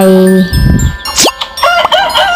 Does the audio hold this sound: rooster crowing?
yes